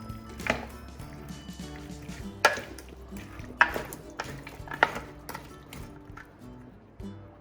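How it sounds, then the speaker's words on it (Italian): Chicken thighs, garlic, potatoes and extra-virgin olive oil being mixed together for oven-baked paprika chicken, heard as scattered utensil taps and scrapes against a bowl or pan, with a few sharper knocks and a soft background hum, no talking. "Iniziamo a mescolare."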